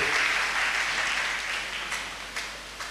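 A church congregation bursts into applause, a dense wash of clapping that starts loud and slowly thins out, with a few sharper individual claps near the end.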